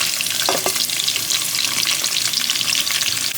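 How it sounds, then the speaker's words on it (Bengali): Whole cloves, cardamom and cinnamon sizzle in hot oil with onion and green chilli, a dense steady frying crackle throughout with a couple of brief stirring scrapes near the start. "এবং লং, এলাচ, দারচিনি দিয়ে দিলাম।"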